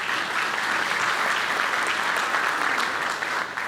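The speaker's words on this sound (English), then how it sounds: "Round of applause to all the sponsors." An audience at a city's State of the City event applauds the sponsors, a dense, steady wash of clapping from a large crowd that holds at an even level throughout.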